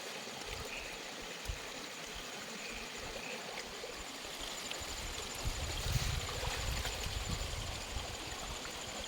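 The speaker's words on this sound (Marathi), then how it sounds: "मित्रांनो हा आमच्या शेतातला ओढा आहे" A monsoon stream on farmland flows steadily with a soft, constant rush of water, unbroken throughout and fairly quiet, with no voices.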